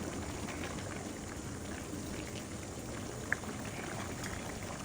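Mixed vegetables simmer in a pan as the water cooks off, producing a steady, soft bubbling and fizzing hiss that continues evenly throughout, with one tiny click near the end.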